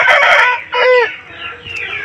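A lively white rooster crows loudly and close, then gives a few short clucks after the crow.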